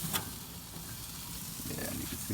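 Chicken tikka boti sizzles on a flame grill in a steady, close hiss, with a brief clatter near the start as the pieces are flipped over.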